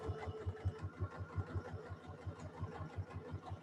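A Janome sewing machine sews in a concealed zipper at a slow pace, making a regular low thumping of needle strokes, about four per second, close but soft and alone.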